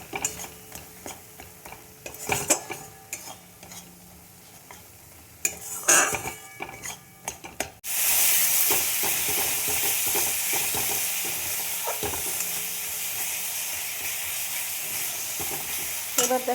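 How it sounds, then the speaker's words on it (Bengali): Spice masala of cumin powder, salt, turmeric, Kashmiri red chilli powder and jaggery being stirred and fried in a pan: scattered scraping and clinks at first, then a loud, steady sizzle fills the rest, with spatula scrapes over it. "এবার মশলাটা আমি কষিয়ে নেব।"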